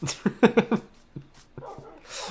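Several tamed dogs in the Minecraft video game, a quick run of high yips and whimpers followed by sparser single whines and a short bark, fairly close and with no talk.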